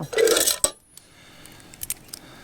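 A brief metallic jangle of camping silverware up close, followed by a few light clinks and taps.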